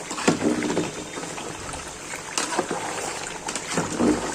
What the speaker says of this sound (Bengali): জোরে জাল দিয়ে আবার একটু নেড়ে চেড়ে